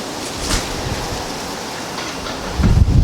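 Wind buffets a microphone outdoors, a steady broadband rumble that swells into heavier low gusts near the end, with no talk.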